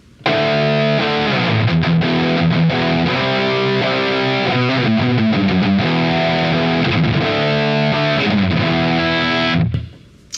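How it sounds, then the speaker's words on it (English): Distorted electric guitar, a FireFly LP-style guitar on the bridge pickup, strummed in thick, sustained chords that ring out for about ten seconds before stopping abruptly. "let's see what she sounds like with a little bit of distortion"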